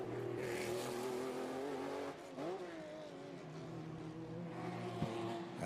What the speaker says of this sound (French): la voiture de Romain Dumas aux couleurs de Benson & Cherry. Elle ne laisse strictement aucune chance aux autres